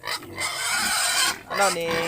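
A pig grunts and squeals in short, loud bursts separated by brief pauses, with a person's voice mixed in.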